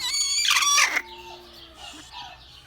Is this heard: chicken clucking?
yes